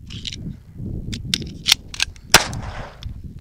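A string of pistol gunshots, about half a dozen sharp cracks at uneven intervals, mixed with clicks of handling the gun, and low background noise underneath.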